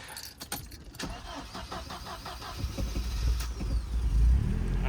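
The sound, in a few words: car engine running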